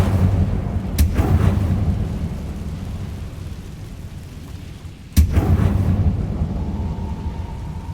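The Incendio fire spell in Hogwarts Legacy, cast twice. Each cast is a sudden whooshing burst with a thunder-like crack, set apart by a few seconds over a steady low rumble of background noise.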